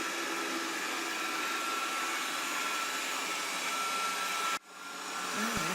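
A Proscenic 820S robot vacuum cleaner runs with a steady, close, broadband whoosh of suction that dips sharply near the end and then swells back up, with no talking.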